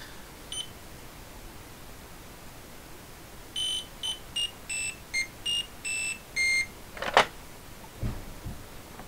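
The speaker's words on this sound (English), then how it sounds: "it plays random beeps, and as soon as it stops, that's when you're supposed to press the button" An Ideal MANIAC handheld electronic game plays a run of about eight short, shrill random beeps in an uneven rhythm, followed by a button click and faint handling sounds.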